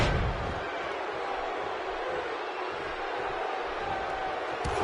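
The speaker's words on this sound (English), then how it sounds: "by the sound of this crowd, I think they're getting what they wanted." In the WWE 2K17 wrestling video game, an arena crowd roars continuously, a dense, steady wash of cheering noise with no clear breaks.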